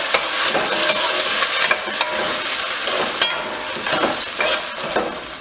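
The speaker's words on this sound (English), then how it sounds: "In that I'm going to add the red bean, the red kidney bean, and give it a stir." Red kidney beans go into a pot of Trinidad stew chicken and get stirred, making a close, steady frying sizzle broken by sharp spoon scrapes and clicks against the pot, with no voices.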